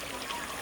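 A steady, broad rush of flowing water, continuous and fairly close with no pauses and no talking.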